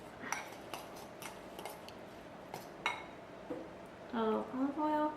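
Pesto stirred by hand in a bowl, a utensil clinking and scraping against the bowl in quick, light taps, with a voice speaking briefly near the end.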